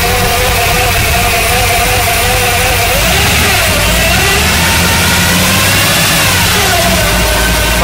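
A 1968 Ford Bronco with dual exhaust idles loud and close, its engine churning steadily with a few rising and falling revs midway, no voices over it.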